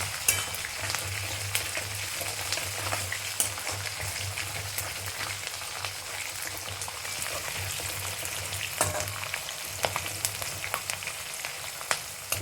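Green chilies and garlic fry in hot oil for tempering poha, a continuous close, even sizzle and crackle with occasional faint stirs, heard alone without talk.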